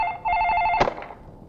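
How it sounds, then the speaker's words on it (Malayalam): In a household scene, a telephone bell rings in a rapid, trilling burst that cuts off abruptly. Quiet room tone follows. "അല്ല, ഫോൺ."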